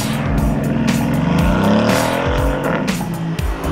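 A Mercedes-AMG GT in sport mode with the exhaust valve open, its engine roaring loudly and revving up and down in rising sweeps, crackling at each gear change, with no talk.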